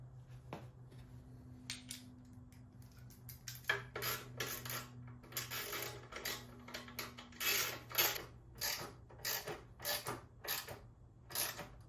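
Motorcycle fender taillight bolts are tightened during a sequential taillight install, with clicking, ratcheting metallic bursts coming in irregular close clusters that grow busier over the stretch, over a faint steady hum.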